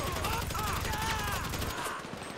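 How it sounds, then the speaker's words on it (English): Rapid bursts of gunfire in GTA 5 crackle in a dense, continuous volley, loud and close, with a mechanical rattle underneath. "Gunfire."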